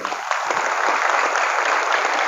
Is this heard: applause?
yes